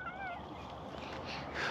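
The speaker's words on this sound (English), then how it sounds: "Are those all your kitty friends?" Cats on a farm meow, with a couple of clear, rising meows near the start and another toward the end over a murky outdoor background.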